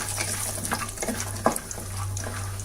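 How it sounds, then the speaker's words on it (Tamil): Peanuts frying in hot oil in a pan, a soft continuous sizzle with a few light stirring clicks, heard close and alone. "இந்த வேர்க்கடலையை கொஞ்சம் நல்லா ஃப்ரை பண்ணிக்கலாம்"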